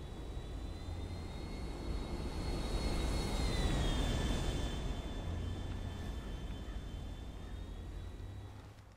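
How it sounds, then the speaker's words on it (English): A steady, loud aircraft engine roar swells and then slowly fades, with a whining tone bending downward midway, like a plane accelerating away. "The plane took off, so yeah,"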